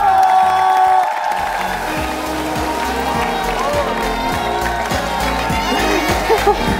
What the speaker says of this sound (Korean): 주인공을 큰 박수로 챙겨봅니다.